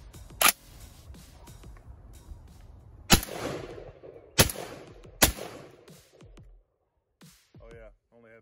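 An ATI Bulldog 12-gauge shotgun fed from a 10-round magazine fires four loud, sharp blasts, one near the start and three spaced over the following seconds, each trailing off into room echo, with rustling and handling noise between shots.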